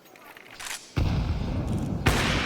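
Gunfire from a Counter-Strike esports match, Astralis against FaZe, comes as a few loud, abrupt bursts of shots in quick succession, close and punchy, with game ambience between them.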